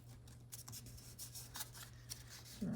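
A sheet of paper folded in half for a handmade junk journal, giving faint, close, papery rustles and soft creasing swipes in a quiet room.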